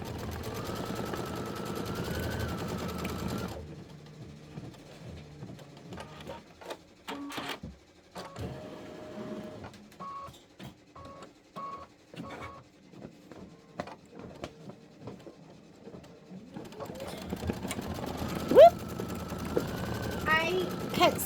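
A sewing machine stitches a placement stitch on a spring quilted table runner block, heard as a stretch of close, irregular mechanical clicking and ticking, with a person talking just before and after.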